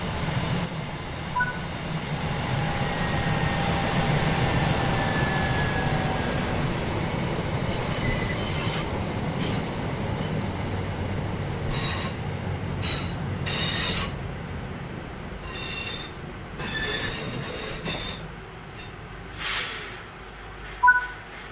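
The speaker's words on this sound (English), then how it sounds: "it's time to bring the train to a stop." A train in Train Sim World 6 rolls along with metallic wheel squeals and clanks, gradually slowing with hissing and clicking bursts as it brakes to a stop.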